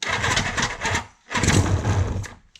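A 1976 Suzuki GT750 motorcycle, started for the first time in 30 years, cranks in two loud, close bursts that sputter briefly without settling into a steady idle.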